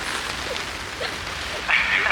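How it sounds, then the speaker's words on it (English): Rain falls steadily at Burning Man 2023, a constant hiss of drops on surfaces, with faint voices and a few brief sounds nearby. "while we're waiting out the rain situation"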